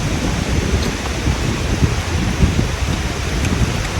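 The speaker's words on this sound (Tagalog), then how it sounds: "Mahangin dito mga be." Wind gusts steadily at the seaside, a continuous broad rushing roar buffeting close, with no voices.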